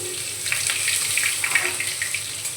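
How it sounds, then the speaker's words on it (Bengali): Garlic paste frying in hot mustard oil in a pan, a steady close sizzle with light crackles throughout. "রসুনটা ভালো করে ভেজে নেব"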